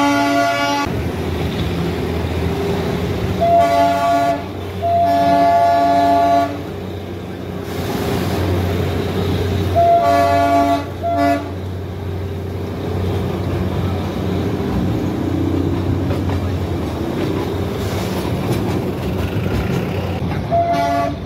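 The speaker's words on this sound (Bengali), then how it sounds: "ট্রেনটা দার্জিলিং স্টেশন থেকে এখন বাইরের দিকে যাচ্ছে, টয় ট্রেন রাইডটা।" Darjeeling toy train pulling out of Darjeeling station, its horn tooting in repeated bursts over a steady rumble of engine and rolling wagons, loud and close throughout.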